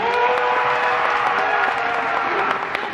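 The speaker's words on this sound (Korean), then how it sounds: "큰 박수 부탁드립니다" Warm applause from a film festival audience at the Busan International Film Festival, a steady dense patter of many hands clapping that holds evenly for a few seconds, heard alone without talk.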